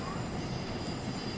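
A train passes by near a crowded fireworks viewing spot, producing a steady broad rumble with a faint high squeal from the wheels, holding even before a brief swell at the very end.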